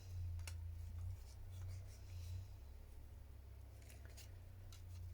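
Scissors snip paper tags for a junk journal in short, quiet cuts over a low steady hum, with no voices.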